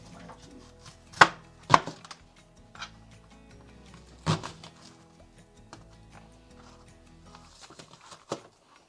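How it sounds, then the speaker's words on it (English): Onion chopped in the Webkinz video game: a few sharp, isolated knife-on-board chops spaced a second or more apart, sounding clean and synthetic over a faint, quiet background. "we're gonna start with chopping the onion"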